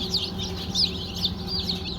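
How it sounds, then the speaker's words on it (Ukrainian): High, repeated cheeping of young chicks, a steady chorus of little chirps close by. "Вибрала курчатка. Дивіться, які гарненькі"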